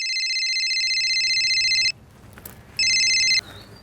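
A telephone rings in two bursts, a long steady electronic trill followed by a brief pause and a shorter second ring, loud and close in an indoor scene with a soft murmur between the rings.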